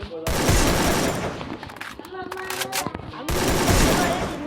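Rapid gunfire from a first-person shooter video game, bursts of shots rolling through the opening second and again near the end, with reload clicks and quieter weapon handling in between.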